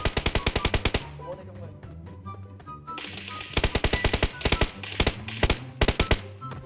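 Automatic gunfire in PUBG Mobile: fast, loud bursts of rapid shots separated by short pauses, fairly close and punchy.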